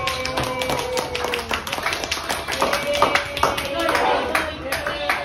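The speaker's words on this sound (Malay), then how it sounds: "Tepuk tangan untuk awak." A classroom group claps in steady applause, dense and fairly loud, with voices mixed in beneath the clapping.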